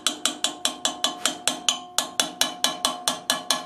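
A rapid, steady series of sharp metallic taps from hammering while engraving copper, about fifteen evenly spaced strikes close by, with one brief pause midway and no talk.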